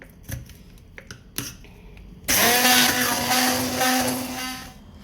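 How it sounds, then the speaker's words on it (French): Electric blender whirs loudly as it purees a marinade for beef skewers, starting abruptly after a few clicks and knocks and running steadily for a few seconds before easing off. "Et là, je vais mixer le tout."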